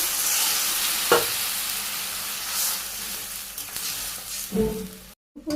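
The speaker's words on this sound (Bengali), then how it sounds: "সামান্য একটু হলুদ এমন কষে নিন ভালো করে কষানো" Pieces of desi rooster coated with turmeric and salt sauté in a hot pan, giving a loud continuous sizzle broken by a couple of scraping stirs and a brief cutoff near the end.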